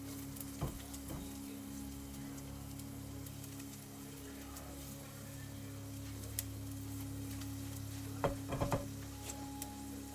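Garlic fries gently in a pan with a soft, steady sizzle, and a few brief scrapes and clinks of stirring break through now and then.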